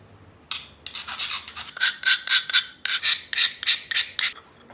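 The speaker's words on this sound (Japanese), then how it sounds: "断面にダイヤモンドヤスリを使って面を取るという工程です" A diamond file rasps across the broken edge of a ceramic piece in a dozen short, rhythmic strokes, close and crisp with no talking.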